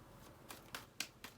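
A deck of cards being shuffled, heard as four quiet, separate riffling bursts spaced about a quarter second apart, each one brief and close.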